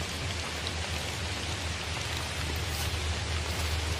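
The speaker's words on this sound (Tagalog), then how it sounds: "Lakas nga ng ulan." Heavy rain pours steadily and loudly in the Philippine mountains of Montalban, a dense unbroken wash of drops with no voices over it.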